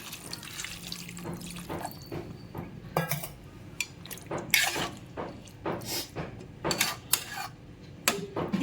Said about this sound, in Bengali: এবার আমি এর মধ্যে জল দিয়ে দেবো যাতে আলুগুলো আমার গলে যায়